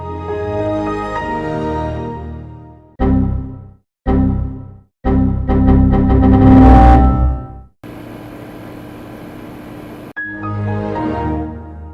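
The Windows XP startup sound plays loud and clear as a bright, layered synth chime that swells and fades. Several separate tonal phrases are set apart by short silences, with no talking.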